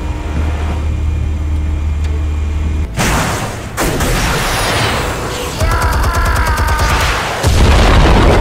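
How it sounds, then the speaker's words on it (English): Explosives detonating in Batman: The Telltale Series, heavy booming blasts that hit loud and close, with a sharp burst near the start and more rumbling detonations and debris following through the scene. "Explosives armed. Fire when ready."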